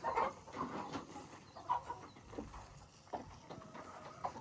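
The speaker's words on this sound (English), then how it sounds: "these are my chickens." Chickens on a poultry farm in Ghana cluck softly in the background, scattered calls over a faint, steady ambient noise.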